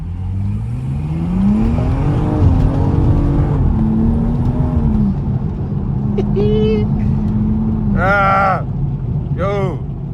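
BMW M235i accelerating hard through Johannesburg traffic, a loud engine note climbing steadily through gears with deep rising tones, with voices briefly chattering over it near the end.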